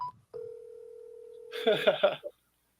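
A phone call being placed: a brief tone, then a long steady ringing or dial tone, followed by a short burst of automated voice before it cuts off.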